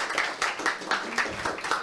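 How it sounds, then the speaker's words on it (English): Conference audience applauding the event's interpreters, a short burst of rhythmic hand clapping at moderate distance, with claps falling in a regular pulse about four per second. "Big applause for them."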